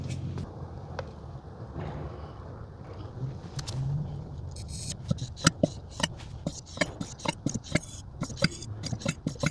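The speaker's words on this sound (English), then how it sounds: "What you hear is me pumping the fork." Honda Rebel 1100 front fork being pumped by hand to drain its oil, a steady series of short, sharp squirting and clicking pulses that quicken in the second half, close and fairly quiet over low background rumble.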